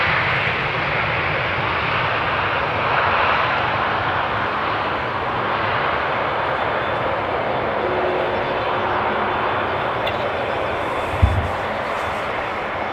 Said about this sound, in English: Nice long flare and very gentle landing.